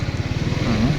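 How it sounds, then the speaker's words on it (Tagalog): Motorcycle engines idling in a crowded parking lot, a rapid low pulsing putter close by with a faint higher whine near the end, no talk. "Dami palang motor."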